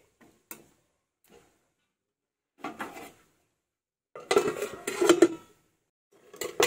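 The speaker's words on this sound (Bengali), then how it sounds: "ঢাকাটা তুলে নেব" A metal lid is lifted off a cooking pot of red amaranth greens, giving a few sharp, close clinks and rattles separated by silence, with one busier clattering burst in the middle.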